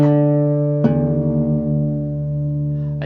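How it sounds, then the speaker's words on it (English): A guitar string is plucked and left ringing while the low sixth string is tuned down to D, two close plucks with a long sustained tone that wavers slightly as the pitch settles. "you can pluck that and then pluck this and then turn it down till it sounds the same"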